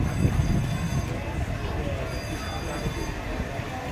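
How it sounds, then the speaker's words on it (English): A miniature railway train at Chelmsford runs along its track with a steady rumbling, rattling roll, fairly close, and a faint voice or two under the noise. "Look, Bobby, see the little train coming round."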